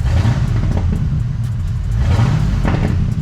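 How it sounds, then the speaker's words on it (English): Foxbody Mustang engine revving unevenly with a misfiring cylinder, a loud, steady low rumble that rises and falls with rough, shaky pulsing and faint pops, heard close up throughout with no talking. "When I give it gas, it's gonna shake."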